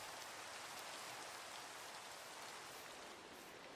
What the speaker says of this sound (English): And we're sheltered from the rain.